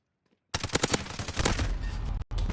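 Rapid gunfire from an overpowered gun in a video game bursts in after a brief silence, loud and close, with a quick cut before it resumes.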